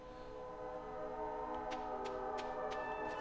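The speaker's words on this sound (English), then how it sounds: "The train is passing." A train passing by, with a steady low rail rumble and sustained horn-like tones, plus a few sharp periodic ticks of the wheels or cars going by at moderate distance.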